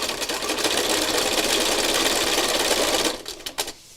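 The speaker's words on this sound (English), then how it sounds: "I'm rambling as I'm stitching" A sewing machine runs in one steady continuous burst of stitching for about three seconds, close and fairly loud, then stops, leaving a few faint clicks and handling noises at the end.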